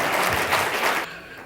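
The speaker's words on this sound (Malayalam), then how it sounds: "നല്ല കയ്യടി കൊണ്ടോട്ടെ കേട്ടോ." An audience at a movie press meet for Vayassethrayayi claps to welcome a guest to the stage. Dense, loud applause runs for about a second, then stops abruptly.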